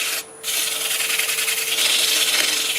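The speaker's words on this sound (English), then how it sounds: "I should be able to do that with the lathe spinning" Sandpaper of 80 grit rubs against a wooden coffee scoop spinning on a lathe, giving a steady close scratchy hiss with a brief pause near the start.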